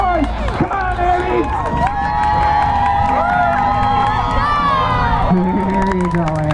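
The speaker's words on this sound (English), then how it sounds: "let's all make some noise and cheer on Abby" A crowd cheers and shouts at a dock-jumping dog event, with whoops and continuous voices. An announcer talks over the noise throughout, close and loud.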